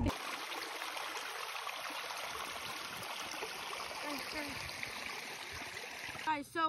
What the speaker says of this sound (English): in order to get to the woods, I'm gonna have to cross this creek